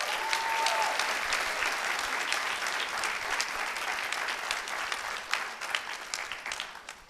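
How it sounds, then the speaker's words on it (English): An audience at a senior honors night applauds steadily, a dense wash of many hands clapping that holds for several seconds and slowly tapers, with a brief voice at the start. "A round of applause, ladies and gentlemen."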